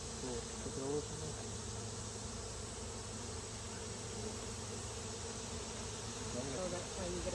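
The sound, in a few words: honey bees buzzing during beehive inspection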